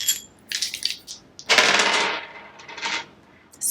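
Dice tumbling and clattering across a hard surface in a few short bursts, with one longer rattling roll in the middle, close and fairly loud with quiet gaps between.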